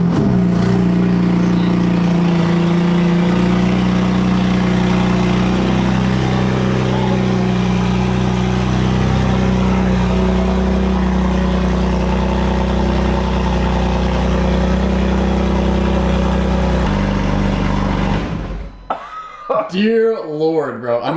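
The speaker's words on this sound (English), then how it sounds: "this is a startup, not with the whole exhaust, just basically open down pipes with a mid pipe on it" BMW M4 starting up and idling on open downpipes with only a mid pipe, a loud steady low rumbling drone held close for many seconds before cutting out near the end, with a person's voice over it.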